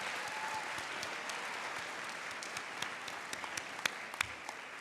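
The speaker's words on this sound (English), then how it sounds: "I think we need to have a special round of applause for our host tonight, Marcia Ginsler-Stevens." Steady applause from a large audience fills the room for the host at a university awards program, a dense even wash of clapping with a few sharper claps standing out near the end.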